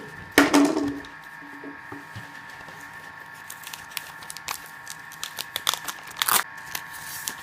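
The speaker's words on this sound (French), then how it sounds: "on va prendre un cutter et on décolle l'étiquette" A cutter knife slices and peels the paper label off a plastic Coca-Cola bottle up close. A loud tearing rasp opens the passage, then scattered scratchy crinkles and small snips follow, with one brief louder rip near the end.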